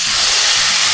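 Water poured into a hot pot for rice throws off a loud, sharp steam hiss that stays close and steady throughout, with no voices.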